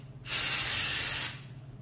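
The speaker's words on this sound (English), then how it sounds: "I'm actually gonna spray some now. This is styling and finishing spray." A single one-second burst of hair styling and finishing spray from an aerosol can hisses close up, starting and stopping sharply.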